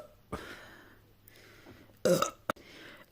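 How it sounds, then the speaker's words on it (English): Several burps from a person, a short low one early on, then a louder, rougher belch near the end followed by brief sharp bursts, with quiet gaps between. "Oh, good burps."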